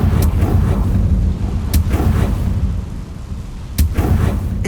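A Confringo fire spell from Hogwarts Legacy goes off as several sharp, booming blasts spread across a few seconds over a dense, rumbling background, loud and close.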